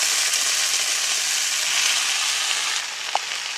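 Kalmi greens (water spinach) hitting hot oil in a pan, a steady close broadband sizzle that holds evenly, then eases slightly near the end with a small clink.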